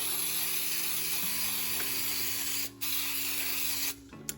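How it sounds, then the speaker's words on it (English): Baker's Joy baking spray hisses steadily into a parchment-lined cake pan, a loud, continuous aerosol spray close up with a brief pause midway and a short break near the end. "I'm going to go and spray some more Baker's Joy."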